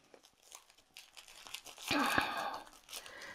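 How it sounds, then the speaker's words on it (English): Cling film crinkles and tears in soft bursts as it is rolled tightly around kefir for freezing, quiet at first and then louder with a burst of rustling near the middle. "I roll it tightly in the cling film"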